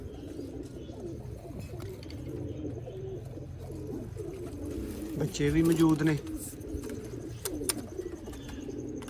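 Cooing from rare Sialkoti black-faced pigeons of a Mian Nazir bloodline, kept in pairs with chicks on a Sialkot rooftop loft, runs continuously and close while someone talks over it.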